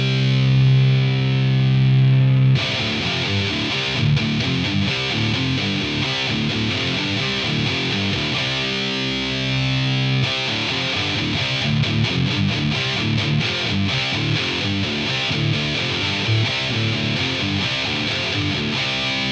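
Heavily distorted high-gain electric guitar chugging through rhythmic riffs, loud and compressed, with a brief sustained chord before the riffing starts.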